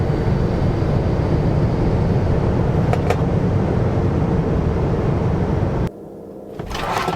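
Loud, sustained broadband roar from a car at a drag race launch as the rear tires spin up, holding steady for several seconds before cutting off sharply, followed by a quieter tail with faint noise.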